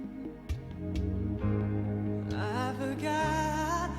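Music playing back as PCM digital audio from an S-VHS tape on a Hitachi digital audio VCR, with steady full-bodied tones and melodic lines continuing throughout and no speech.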